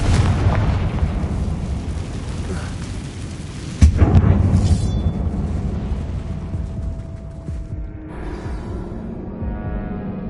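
A Confringo blasting spell explodes in a tomb-like closed mine in Hogwarts Legacy on PS5. A loud rumbling boom lands partway through, and heavy low blast noise rolls on and slowly fades.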